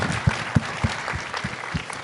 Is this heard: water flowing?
no